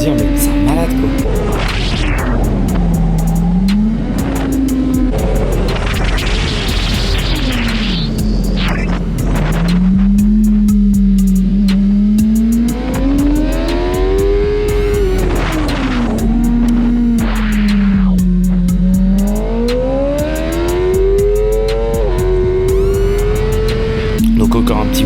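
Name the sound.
motorcycle wheelie and braking with skid on track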